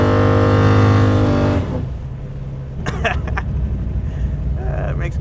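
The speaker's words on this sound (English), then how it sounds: "Look, now he's smoking it out up there." A car doing a burnout and smoking its tires: a loud engine roar drops away after about a second and a half, then a rough, lower engine rumble continues, with people talking over it.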